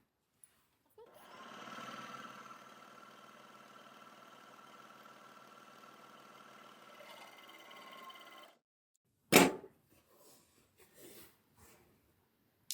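An overlocker with its cutting blade removed runs a narrow rolled hem. A steady mechanical whir lasts about eight seconds and then stops, followed by a sharp clunk and a few soft handling sounds.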